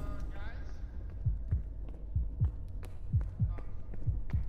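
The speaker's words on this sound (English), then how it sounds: "I heard my heartbeat, man." A heartbeat effect in the horror game Forewarned, in a mummy-haunted tomb: steady paired low thumps repeat several times over a constant murky hum.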